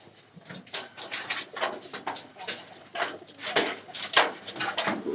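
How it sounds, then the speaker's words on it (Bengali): Domestic egg-laying pigeons coo close by in a loft, a run of soft, overlapping throaty coos repeating in uneven pulses throughout with no talk. "এই খড়ের কবুতর তো আল্লাহর রহমতে ডিম দিয়ে দিচ্ছে"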